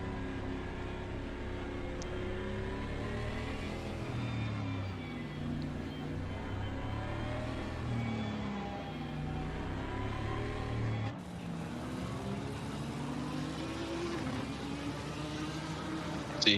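Racing car engines from a Suzuka race in a video game, several motors droning and revving together as the cars line up side by side before the start, a steady layered hum with rising and falling pitch and no talk over it.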